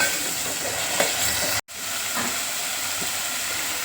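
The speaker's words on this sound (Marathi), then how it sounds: "आता बघा कांदा मी चांगल्या प्रकारे परतून घेतला" Onion paste with chilli sautés in hot oil in a pan, a loud steady sizzling hiss close up with faint stirring scrapes and a brief break partway through, with no talking.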